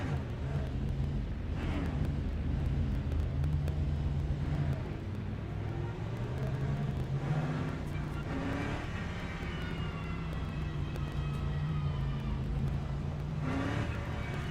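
A Lexus race car engine in Le Mans Ultimate drones steadily with rising and falling revs as gears shift, a continuous mechanical whine sustained throughout.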